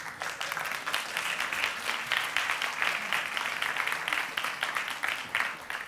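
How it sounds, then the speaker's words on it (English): An audience claps steadily, a dense crackle of many hands, moderately loud throughout with no voices over it. "Give him a round of applause, please."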